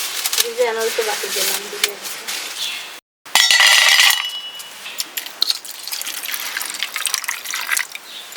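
Water pours and splashes into a bowl to soak cashews and raisins in a Bengali kitchen, with clinking of glass or utensils, a brief gap, then a louder run of pouring and trickling.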